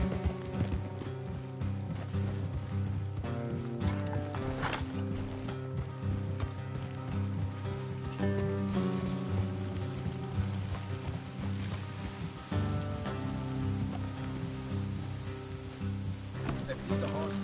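Continuous rhythmic clip-clop of horse hooves in the video game Red Dead Redemption 2, beneath a dense layer of game music and ambient sound, moderately loud and steady throughout.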